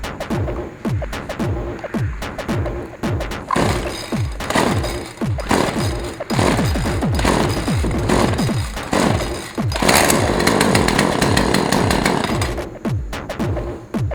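Poulan chainsaw being started, a rapid series of close, loud pull-start chugs and sputtering engine bursts that catch into a rough, revving run before cutting out.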